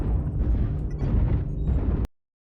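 A mech blows up in the MechWarrior Online game, a loud, rumbling low explosion roaring for about two seconds before cutting off abruptly to silence.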